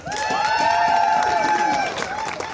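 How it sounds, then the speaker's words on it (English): A crowd at a Women's March rally in Cape Girardeau applauds and cheers loudly, with whooping voices riding over steady clapping that eases slightly near the end. "let's give her a huge round of applause, guys."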